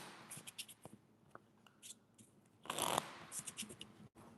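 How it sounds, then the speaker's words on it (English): Playing cards are shuffled for blackjack: soft papery riffles and taps, with a louder burst of flicking cards in the middle, close and fairly quiet. "Let's do a couple shout outs real quick while I shuffle these cards."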